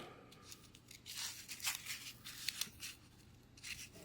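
A piece of foam pipe insulation being cut, a series of close scratchy snips and tearing swipes, a few sharper cuts near the end.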